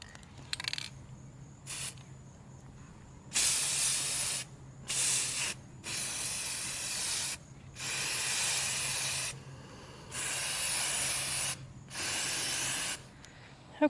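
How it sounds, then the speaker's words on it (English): Aerosol clear coat sprays onto painted golf-ball allium flowers in repeated hissing bursts, short at first and then longer ones of about a second each, close and crisp, separated by quiet pauses. "now I'm going to spray it with this clear coat just to seal it all in"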